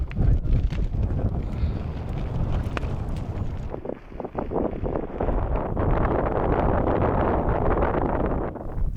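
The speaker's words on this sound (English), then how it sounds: "This wind is windy." Strong wind on a bikepacking route in the Silk Road mountains buffets the microphone in loud, rough gusts with a constant roaring rush, no voices.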